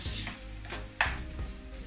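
Coconut milk frying in a pan at home as its oil separates out, giving a steady close sizzle with stirring scrapes and one sharp spatter-like burst midway.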